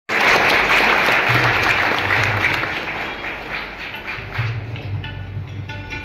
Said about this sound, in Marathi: जोरदार टाळ्या त्यासाठी झाल्या पाहिजेत.